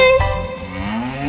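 In a children's animal nursery rhyme, a single loud, close cow moo sweeps slowly downward in a long, drawn-out low call, heard alone without singing over it.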